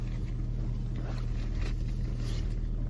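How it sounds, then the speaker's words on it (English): A parked car idles steadily while it warms up on an NYC morning, a low, even rumble that holds without break, fairly quiet and with no talking over it. "Right now I'm just waiting for my car to warm up"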